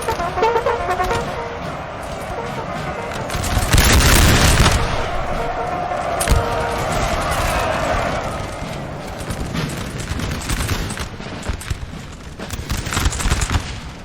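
Musket volleys crackle in Napoleon Total War as line infantry fire into cuirassier cavalry, loud sustained gunfire with heavy booms swelling in the middle, a steady battle din throughout.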